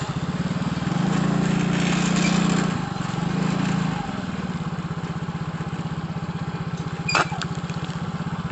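A motorbike engine running near people in an Indonesian village, a steady low chugging idle that swells louder for a few seconds early on then settles back to an even putter, with a brief sharp clink near the end.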